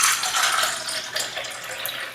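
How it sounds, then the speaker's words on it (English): Tap water pours steadily into a container holding a few drops of tea, a close, continuous splashing rush that lasts a couple of seconds. "So now, let me do the tap water into the drops of tea."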